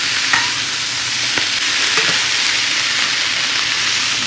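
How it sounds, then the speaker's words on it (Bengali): Brussels sprouts fry with turmeric and salt in a pan, a loud, close, continuous sizzle with occasional light scrapes of stirring. "এখন এখানে বাসের স্প্রাউট ভাজা করে নিচ্ছি"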